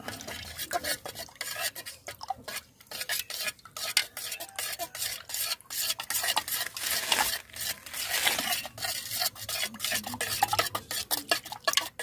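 Potting mix for planting Colocasia Black Coral tuber pieces is stirred by hand. Irregular gritty scraping and rustling strokes repeat close up for several seconds, with faint clinks and no talking.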